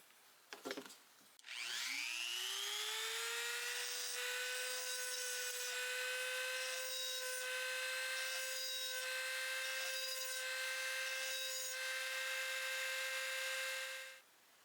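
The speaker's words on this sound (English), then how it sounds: "The ball shaped burr does a nice job on the tips of these nail sets." A WEN 2307 rotary tool fitted with a diamond ball burr grinds the tips of nail sets, spinning up with a rising whine and then holding a steady, high-pitched buzzing grind before winding down.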